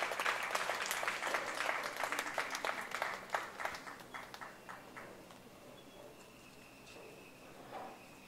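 Guests at a charitable institution event applaud a memento recipient, a fairly quiet round of clapping that is dense at first, thins into scattered claps and fades toward the end.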